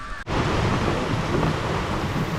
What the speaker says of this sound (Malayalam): അടിപൊളി മഴയാണ് ഞാൻ മിറ്റത്ത് നിന്ന് വെച്ച് എടുക്കാമെന്ന് വിചാരിച്ചതാണ് മഴ കാരണം അത് മാറ്റി